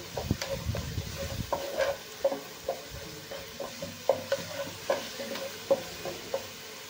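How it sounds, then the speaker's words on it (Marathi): Chopped onion with ginger and garlic sautés in a pan for pav bhaji, a low steady sizzle under a series of rhythmic spatula scrapes and taps, close and moderately loud, without speech. "अद्रक लसूण पण आपल्याला छान परतून घ्यायचंय"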